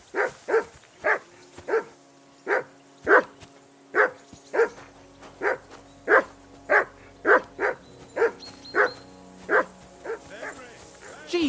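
A dog barks in the video game Kingdom Come Deliverance 2, a steady run of about twenty sharp, evenly spaced barks, close and clear over a faint background hum.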